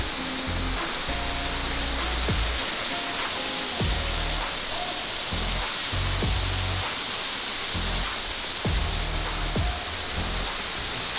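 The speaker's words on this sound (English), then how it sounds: "This is one of many waterfalls here in Costa Rica, and it's quite incredible." Waterfall in a Costa Rican jungle, a constant broadband roar of falling water that stays close and steady throughout, with no voices.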